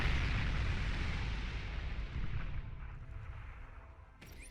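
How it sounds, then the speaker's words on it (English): Energy converters exploding in the strategy game Beyond All Reason, a loud, rumbling blast that opens the moment and slowly decays, followed by a fainter trailing pop. "And energy converters getting destroyed."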